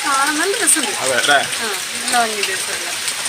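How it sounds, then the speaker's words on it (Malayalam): Steady rain hisses down at a resort in Wayanad, a constant wash of falling drops running beneath people talking close by. "മഴ ആയതുകൊണ്ട് മഴയാണ് ഒരു ഇങ്ങനെ പെയ്യും തോരുന്നില്ല"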